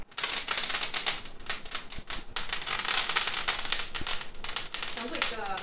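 Garlic crackles and pops loudly in a hot pan while cooking steak and eggs, a dense continuous sizzle with sharp snapping bursts like firecrackers, close up throughout.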